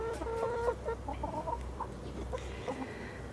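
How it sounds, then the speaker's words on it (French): Young hens cluck in an urban backyard chicken coop, a steady run of short, close clucks and murmurs with a few higher calls layered over a low background hum. "On voit les petites poulettes."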